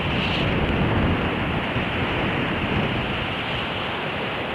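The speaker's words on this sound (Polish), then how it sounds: "Wieje." Wind buffets a microphone on a drive to the sea in a steady, loud, broadband roar that fills the whole clip without pause and with no voices.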